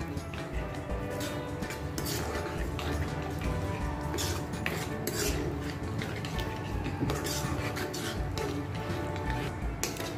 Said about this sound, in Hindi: अब हम इसके अंदर दही डाल देंगे। दही को भी अच्छा मिक्स कर लेंगे।